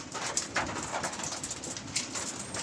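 Pigeons coo softly in a cluster, low repeated calls overlapping against a hissy outdoor background, moderately close and faint, with no talking.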